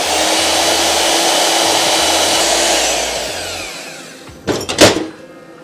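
Saw cutting the beveled ends off aluminum radiator hose parts for a Subaru WRX drag build, a loud sustained whining buzz that fades out, followed by a couple of sharp metallic clanks.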